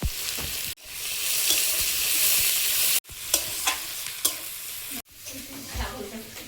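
Nigella seeds spit and crackle in hot oil for a fish curry, a loud close sizzle cut by sudden breaks and punctuated with sharp pops and spoon scrapes.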